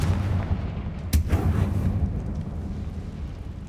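A Confringo fire spell cast in Hogwarts Legacy bursts with a sharp, loud blast around the one-second mark, followed by a rumbling, crackling tail that fades over the next second or so.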